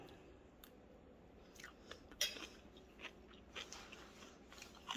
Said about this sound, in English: I got myself a little bit of rice, got myself this kimchi, and we'll go ahead and take a bite